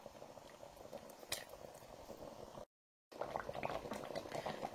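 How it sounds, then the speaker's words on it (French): Sauce bubbling in a pot as it simmers, a quiet, close, continuous burble of popping bubbles with a brief gap of silence partway through. "Vous voyez comment ma sauce est en train de bouillir bien poto là."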